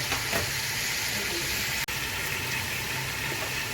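Ghee sizzles and spits steadily with a dense, continuous frying hiss as spices and deggi chili cook for beef nihari, with one brief break partway through.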